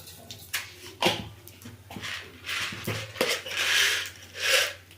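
Mustard seeds hit hot oil in a pan: scattered crackles and pops, with a few sharp clinks at the start, then a soft rising sizzle over a low steady hum.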